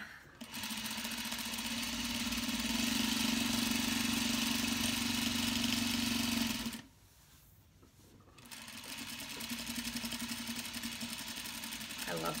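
A sewing machine stitches a clutch wallet with a steady, close mechanical whir, pausing briefly before starting up again at a similar pace, with a voice talking over it.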